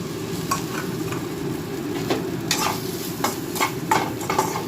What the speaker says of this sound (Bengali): এই বেগুনটা আলাদা ভেজে রেখেছিলাম যেটা এটা মিশিয়ে দিলাম